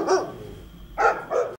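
Guard dogs bark in a short-film scene, three sharp close barks, one then a pause and two more in quick succession, loud and clear with no talking.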